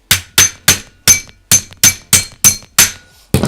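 A hammer taps a body pin into an Ares Amoeba M4 airsoft AEG during a gearbox change: about ten sharp metallic strikes, close and loud, evenly spaced with short pauses, and no talking.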